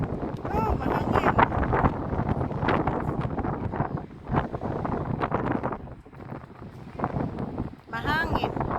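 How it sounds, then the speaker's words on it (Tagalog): Wind blasts across the microphone at the Grand Canyon in loud, gusty buffets that rise and fall. People talk underneath the gusts. "Oh, mahangin."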